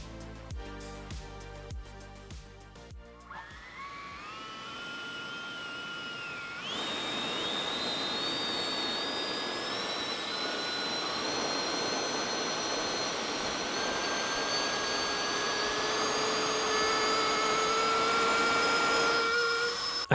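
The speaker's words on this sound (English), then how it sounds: "it was time to test what the blower can do" A homemade 3D-printed leaf blower with a widened draft tube spins up from clicking starts into a loud, steady high whine over a rushing roar of air, which holds to the end with no voices.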